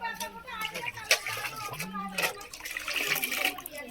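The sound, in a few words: cold water poured into cooked rice for cow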